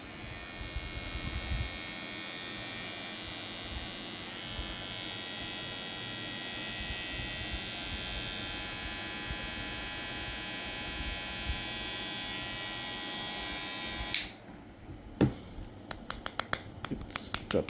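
A small no-name electric hair clipper runs with a steady high-pitched motor buzz and hum for about fourteen seconds, then switches off, followed by a few sharp clicks and handling taps.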